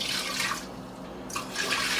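Water poured from a container while mixing a fruit-washing solution of regular vinegar and water, a steady nearby splashing stream that pauses briefly midway, then resumes.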